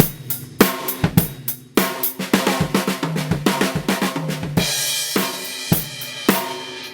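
A drum kit plays a steady linear pattern, single hits moving between drums with deep bass drum thumps and crisp cymbal accents, close and loud.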